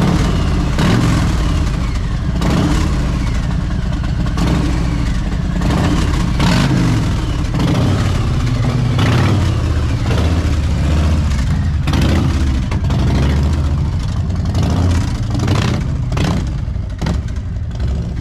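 A Harley-Davidson motorcycle engine revs hard and loud up close, repeated throttle blips rising and falling over a deep, rumbling idle, with riders outdoors in Melbourne nearby.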